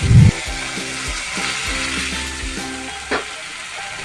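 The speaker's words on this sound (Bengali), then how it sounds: "কেটে রাখা আলু আর ঝিঙে দিয়ে ভালো করে মশলাটাকে কষিয়ে নিন" Spices sizzle in a pan with potato and ridge gourd, a steady close frying hiss broken by a few stirring scrapes and knocks.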